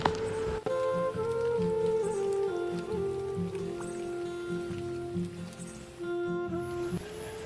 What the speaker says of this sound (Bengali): দেখো কেমন বৃষ্টি পড়ছে